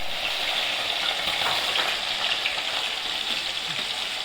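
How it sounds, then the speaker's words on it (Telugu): Curry ingredients frying in a pan in a home kitchen, a steady close sizzle with no break, bubbling with faint stirring scrapes. "ఆలోపు మా అమ్మ ఫ్రై చేస్తుంది ఇటు"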